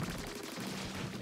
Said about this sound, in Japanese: いきなり大砲が出てくると思ってなかった